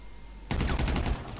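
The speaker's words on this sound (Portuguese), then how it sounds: "Dei tiro pra caralho nele." Rapid automatic gunfire from a video game rattles out in one loud continuous burst of closely spaced shots, following a brief stretch of low background noise.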